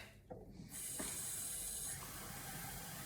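A fizz stick dissolving in a drink gives a steady, quiet hiss of fizzing that continues without a break, close by with no talking.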